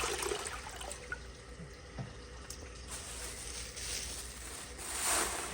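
An American Standard Townsend Vormax toilet flushes with a steady, moderately loud rush of water that holds evenly and swells slightly near the end, with no voices.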